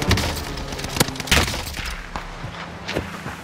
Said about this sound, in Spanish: Te están disparando ahí